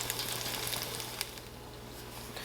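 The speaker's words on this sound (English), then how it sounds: "so you know for sure that all your fritters are frying" Jamaican saltfish fritters fry in hot oil in a fryer basket, giving a close, steady sizzle with light crackling pops throughout, no voices.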